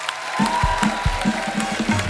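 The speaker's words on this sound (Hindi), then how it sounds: "एक बार जोरदार तालियां हो जाएं हमारे कलाकारों के लिए।" Applause from a live audience for performers at a film-industry stage event, clapping running steadily alongside rhythmic low thumps and music-like tones underneath.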